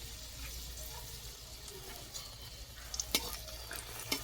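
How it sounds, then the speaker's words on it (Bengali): Three split dried red chillies frying in a little hot mustard oil in a wok for an amla pickle, giving a quiet continuous sizzle with a few sharp crackles and stirring scrapes toward the end. "কড়াতে খুব সামান্য সর্ষের তেল দিয়ে দিচ্ছি তেল গরম হয়ে গেছে দেখুন এই যে তিনটা শুকনো লঙ্কা মাঝখান থেকে কেটে দিলাম"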